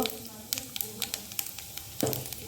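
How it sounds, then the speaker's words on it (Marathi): Cumin seeds and a pinch of asafoetida dropped into hot ghee give a soft, close sizzle with small crackling pops, and a brief burst of frying toward the end, while someone talks over it. "तूप व्यवस्थित गरम झालेला आहे एक चमचा त्याच्यामध्ये जिरं टाकून घेऊया आपण थोडंसं हिंग"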